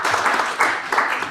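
A debate audience applauds a panelist at a public forum, a short burst of steady clapping from many hands filling the room at close range.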